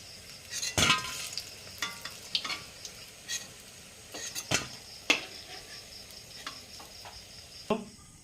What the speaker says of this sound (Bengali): গরম তেলে দিয়ে দিচ্ছি